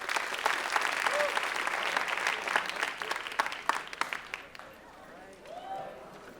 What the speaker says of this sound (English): One last round of applause for our presenters today.